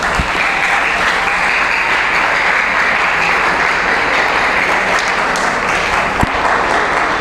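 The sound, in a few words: audience applause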